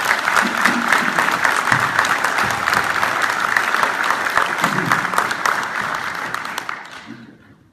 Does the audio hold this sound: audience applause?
yes